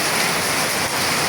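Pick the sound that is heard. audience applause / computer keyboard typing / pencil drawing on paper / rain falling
rain falling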